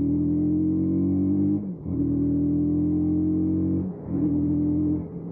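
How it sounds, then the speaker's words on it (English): A Lexmoto LSN 125cc motorcycle exhaust drones loudly and steadily in a low gear, with two brief dips where the revs drop between gear changes before the engine pulls again. "it's got a good exhaust sound to it."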